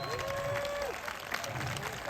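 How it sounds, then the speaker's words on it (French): An audience claps at an Odanak powwow, brief steady applause mixed with crowd noise and a whistle-like tone, with a voice faintly speaking over it. "Et donnez-y un autre applaudissement."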